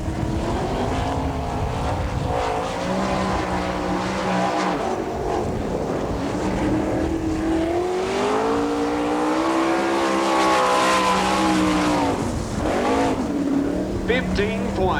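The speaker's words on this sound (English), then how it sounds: "Kenny Jacobs, the next car out on the Speedway, getting ready for his qualifying run" Sprint car roaring around a dirt speedway on a qualifying lap at an All Star Circuit of Champions race in Woodstock, Georgia, engine pitch rising and falling through the turns, loud and continuous, with an announcer talking over it.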